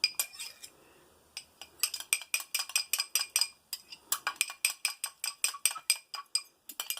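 A small knife clinks and scrapes rapidly against a dish or glass container, blending several makeup foundations together in a steady run of sharp, close taps with a brief pause early on.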